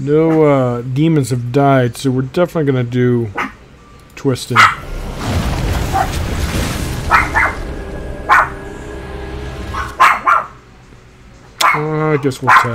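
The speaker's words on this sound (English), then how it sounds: "Excuse my dog." A dog barking a few times in the background during a Hearthstone game session, short sharp yaps between stretches of close talking.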